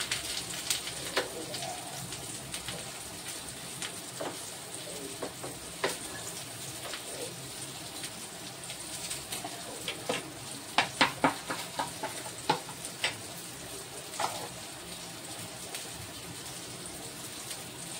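Ingredients for a barli vagi gravy fry in a pan, with a soft continuous sizzle and scattered stirring clinks and scrapes, fairly quiet throughout.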